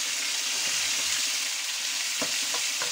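Potatoes hiss in a hot pan for bacalao encebollado, a steady dense sizzle with a few soft clinks and stirring knocks near the end.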